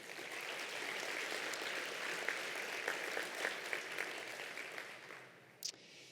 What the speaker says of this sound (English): just a nice round of applause again for this group